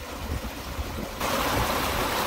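A waterfall and stream flow at Walkers Waterfalls, giving a steady broadband rush of water that jumps noticeably louder and closer about halfway through, with no voices.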